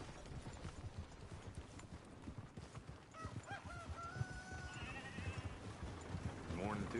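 A horse in the video game Red Dead Redemption 2 gives a couple of short whinnies and snorts over steady clip-clopping hooves, with someone talking to it and other voices nearby.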